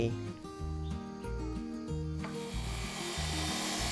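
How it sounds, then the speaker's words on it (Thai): A circular saw on a bamboo-cutting machine grinds loudly through bamboo with a rhythmic, pulsing motor hum, then the cutting turns into a harsh, hissing rasp. "จุดเลื่อยวงเดือนตัดไม้ไผ่"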